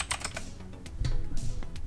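A loud computer keyboard being typed on: a steady, close clatter of quick keystrokes with a few heavier key thumps, no voices.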